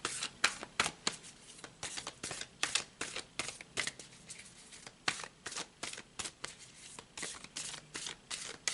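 Tarot cards shuffled by hand in quick repeated riffling bursts, a crisp papery flutter that comes and goes in a steady rhythm, close and fairly soft, with no talking.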